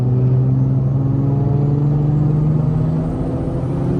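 A BMW 340i fitted with a big turbo kit accelerates hard in fifth gear, its loud, steady engine drone climbing in pitch and dipping slightly near the end.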